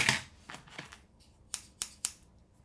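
Scissors snip paper in a series of crisp cuts: a quick early cluster of strokes, then three sharp, separated snips, close and clear with no talk.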